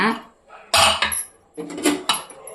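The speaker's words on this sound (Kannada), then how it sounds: "ನಾವು ಬಿಸಿಲಾಯಿತು ಕುಕ್ಕರ್ ತೆಗಿತಾ ಇದ್ದೀನಿ" A pressure cooker opened in a home kitchen while cooking mutton head sambar, bringing sharp metallic clanks and a brief hiss of released steam, with a voice talking around the noise.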